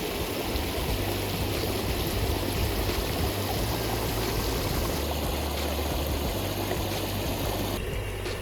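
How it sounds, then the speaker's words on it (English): Spring water spills off a cliff at Colorado Bend State Park in Texas, a steady, dense rush of falling water that holds at the same level throughout with no voices. "you can see kind of where the spring water falls off of the cliff down below."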